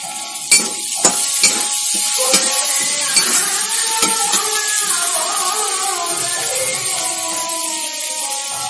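Onions frying in a pan with a steady sizzle, cut by several sharp clinks of a metal spoon against the pan near the start, then settling into continuous crackling.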